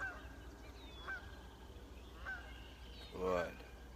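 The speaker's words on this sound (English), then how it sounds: "here's a good distraction, a little goose flying out" A small goose honks as it flies out, several faint, distant calls spaced over a few seconds, ending in one louder honk, amid steady outdoor background noise.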